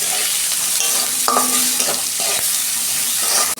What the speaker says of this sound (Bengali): পেঁয়াজটা আমি লাল লাল করে ভেজে নিয়েছি